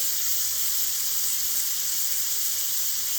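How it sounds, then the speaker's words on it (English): Grass-fed ribeye steak searing in a pan on high heat gives a loud, steady, bright sizzle that holds constant without pauses and has no talking over it. "You can already see on this high heat how quickly the meat has seared."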